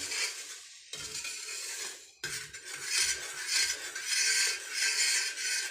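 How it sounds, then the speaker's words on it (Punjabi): Utensil scraping and clinking against a metal dish as a thick cleaning paste for a roti griddle is stirred, repetitive and close, with a brief pause partway through. "ਹੁਣ ਇਹਨੂੰ ਚੰਗੀ ਤਰ੍ਹਾਂ ਆਪਾਂ ਕਰ ਲੈਣੇ ਆ ਮਿਕਸ"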